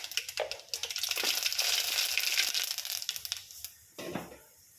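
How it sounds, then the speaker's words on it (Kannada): Mustard seeds crackle and spit in hot cooking oil in a pan while shavige bath is being made. The pops are dense, close and crisp, then ease off, with one last burst of sizzling near the end. "ಎಣ್ಣೆ ಕಾಯ್ದಿದೆ ಸ್ವಲ್ಪ ಸಾಸಿವೆ"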